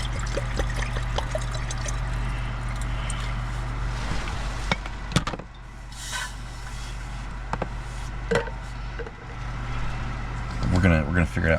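Water pours from an electric kettle during a sub-zero car campout, a steady trickle under a constant low hum, broken by sharp knocks and clatters, with a louder burst near the end.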